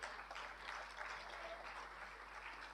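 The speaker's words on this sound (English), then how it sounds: "can we have a huge round of applause for Payal?" Applause rises for a session moderator at a Partnering for Change 2024 conference, a faint, even patter of many hands heard from a distance, with no voices on top.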